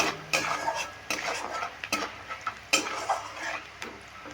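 A utensil stirs elephant foot yam stems with salt and turmeric in a metal pan. Close, irregular scrapes and clinks repeat against the pot over a faint sizzle.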